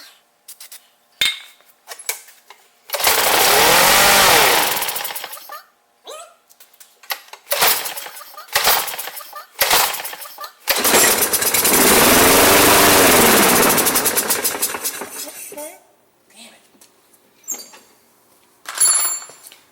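A Craftsman Gold lawn mower engine is pull-started repeatedly, with rattling recoil pulls and two longer bursts of sputtering, roaring engine that die away, interspersed with clanks and handling noises.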